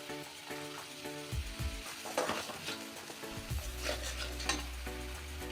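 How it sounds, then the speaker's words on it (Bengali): Ginger, chilli paste, chilli powder, sugar and cumin and coriander powder fry in a pan as the masala for a rui fish curry with raisin paste. Soft sizzling continues under repeated scraping and stirring, with a few light clinks of a spatula on the pan. "মশলাটা আমার ভালো মতন কষে গেছে।"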